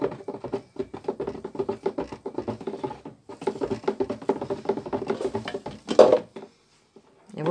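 A glycerin soap mixture being stirred while lemon juice is added produces a steady patter of scraping and light clinking against the container, ending in a louder knock before a brief pause.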